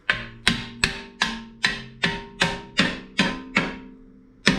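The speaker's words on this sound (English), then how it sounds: "tap the dust shield" A hammer taps the dust shield on a 1996 Jeep Grand Cherokee front hub, landing eleven sharp, ringing metallic strikes at an even pace, each ring fading before the next, close and clear.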